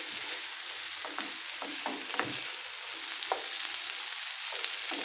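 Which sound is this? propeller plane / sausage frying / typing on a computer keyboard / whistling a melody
sausage frying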